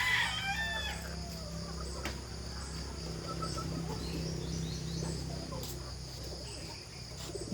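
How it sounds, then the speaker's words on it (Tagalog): A rooster crows once at the start, faint and a little distant, followed by quiet farmyard background with crickets and occasional soft bird sounds. "Yan po mga manok ni Mike po, mga kababayan."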